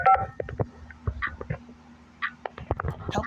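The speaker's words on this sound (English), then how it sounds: "Hurry, get to the phone to call for help." A telephone dialing in a Roblox hotel game gives a quick series of short tonal beeps, spaced irregularly with a pause midway, fairly close and clear.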